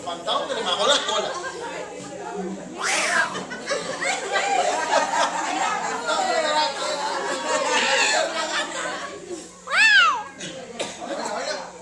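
A person vocally imitates a startled cat whose tail was stepped on, with rising, wailing meow-like cries among lively chatter and laughter from a group.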